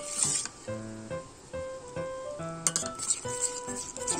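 A spoon scrapes and clinks against a pan while a thickening milk mixture for malai laddu is stirred continuously over medium-high flame, with repeated metallic scraping strokes close by.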